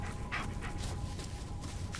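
A dog pants in the horror video game Blair Witch, quick rhythmic breaths repeating close up over a low ambient hum, with no talking.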